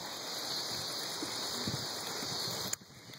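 A lawn sprinkler sprays water along a residential street, giving a steady, even hiss of falling droplets that runs throughout, with a brief clatter near the end.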